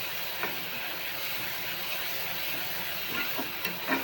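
Chopped onion fries in a pan for kanda pohe, giving a soft, steady sizzle with a few faint stirring scrapes.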